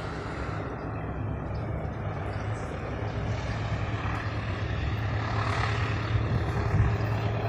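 Indonesian passenger train Argo Parahyangan rounding the big curve at Padalarang, a steady heavy rumble with engine drone that swells slowly and holds loud throughout, no voices.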